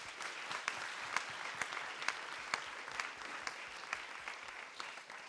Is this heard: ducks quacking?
no